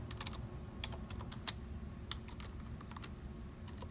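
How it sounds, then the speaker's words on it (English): Steady, rapid clicking of keys on a computer keyboard, typed continuously and close by over a low background hum. "So I'm typing the title to my table right here at the bottom there."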